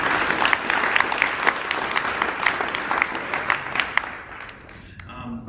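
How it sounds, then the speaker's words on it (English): An audience at a high school awards night claps for students, a dense burst of applause that carries on for several seconds, then thins out and fades near the end. "So let's give all of these students a round of applause."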